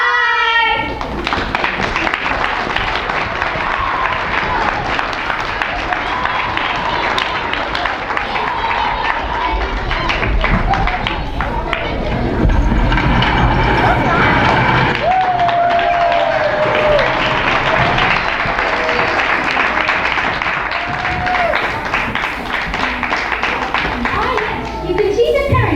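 School assembly audience of fifth graders applauding, a steady dense wash of clapping from a large crowd that fills the whole stretch, loud and sustained with murmuring voices mixed in.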